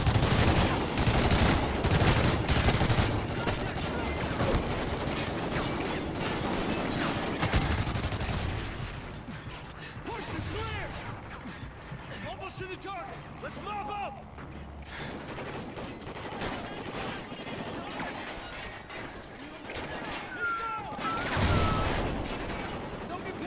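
Dense gunfire in Call of Duty Ghosts, a heavy, loud barrage of shots and explosions at first that eases into scattered distant firing and mechanical noises, swelling again near the end, with occasional voices.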